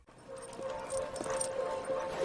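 A dog whimpering in a dog food commercial, a thin high whine drawn out over a couple of seconds against light background sound.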